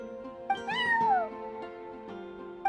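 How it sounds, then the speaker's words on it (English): Charcoal, a neighbor's cat in a video game, gives a single drawn-out, rising-then-falling meow that sounds close and clear, with a couple of soft knocks around it. "I'm sorry, that's my neighbor's cat."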